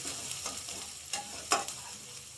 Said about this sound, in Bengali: এবার আমাকে সুন্দর করে নাড়তে হবে।